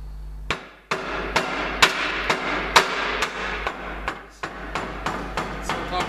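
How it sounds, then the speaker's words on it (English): A part is tapped into place with a hammer while a Sterling Pro Assist is being assembled, giving a steady series of about a dozen sharp, close, evenly spaced knocks over a low constant hum. "Sometimes you've got to give it a little bit of a tap"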